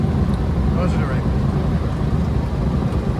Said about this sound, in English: The windy noise you hear, that's the gear coming up.